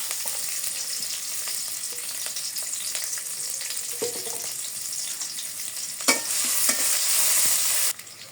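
Steady sizzling of onions frying in hot oil in a wok, close and continuous, with a louder crackling burst and brief stirring scrapes toward the end.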